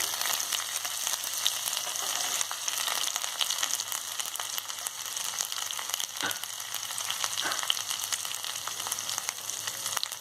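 Soaked chana dal sizzles in hot oil with a steady bright frying hiss that runs unbroken throughout, with no talk over it.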